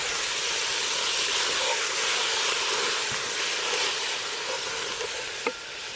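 Tomato sauce poured over browning mince sizzles steadily in a pan over a campfire while camping in the Australian bush, a loud continuous hiss with a brief clink near the end.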